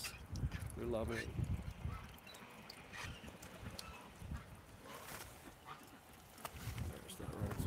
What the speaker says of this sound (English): The geese. They love it.